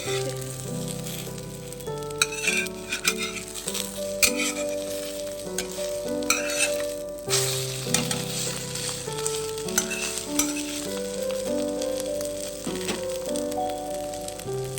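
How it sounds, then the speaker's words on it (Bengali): Dense frying sizzle from a hot pan as an egg omelette fries, steady throughout, with a pitched tonal hum and occasional spatula taps layered over it. "ডিম ভাজতে দিয়ে দিয়েছি, অমলেট করে"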